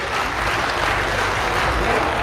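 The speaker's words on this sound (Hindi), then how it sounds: "तालियां बजा दीजिए फिर एक बार" Audience applause at a Hindi comedy show, a steady dense wash of clapping filling the whole stretch at even loudness with no break.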